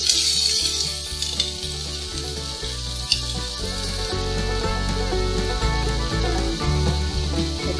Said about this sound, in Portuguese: vou refogar essa cebola